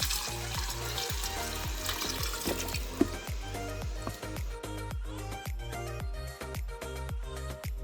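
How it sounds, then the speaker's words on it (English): Water swished out of a seasoning bowl and poured over oxtail being prepared for Jamaican curry oxtail, with a steady liquid hiss and repeated soft pulsing splashes close by, no voices. "fill it with water so you can get all the seasonings, and then we're going to pour that over the oxtail"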